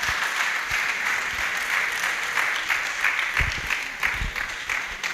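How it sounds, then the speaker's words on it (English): Steady, dense applause from an audience at a public health nursing service held in a church in Ocho Rios, loud and sustained without a break. "Can you give her another round of applause?"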